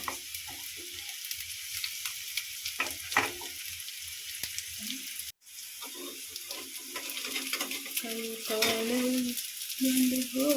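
Food fries in a little oil over a low gas flame, a soft, steady sizzle with scattered stirring clicks and scrapes, broken by a brief silent gap, with a faint voice-like murmur near the end.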